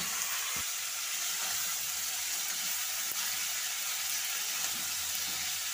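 Broccoli frying in a pan with turmeric, a steady, close hiss of sizzling oil that holds evenly throughout, with a few faint clicks and no talking.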